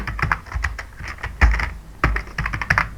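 Rapid keystrokes on a computer keyboard while writing text into a PowerPoint slide, close and clear, coming in quick bursts with short pauses and a couple of heavier thumps, no talking.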